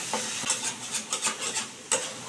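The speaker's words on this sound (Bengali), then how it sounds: "এবারে একটু মিশিয়ে দিচ্ছি। এইবারে কিন্তু খুব ভালো করে মিশিয়ে নিতে হবে।" A utensil stirs and mixes mashed pumpkin with bori in a pan for a Bengali kumro bori dish, giving a soft rhythmic scraping with light sizzle, close and fairly quiet.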